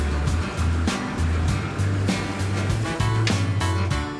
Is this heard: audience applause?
no